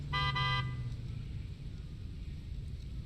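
Short vehicle horn honk in the factory-building game Satisfactory, a single bright blast of about half a second, loud over a steady low rumble of background noise.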